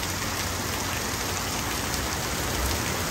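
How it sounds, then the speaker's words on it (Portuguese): Rain falls in São José do Egito, a steady, dense hiss of drops with no pauses, loud and even throughout. "Mostrando pra vocês uma bela chuva aqui em São José do Egito"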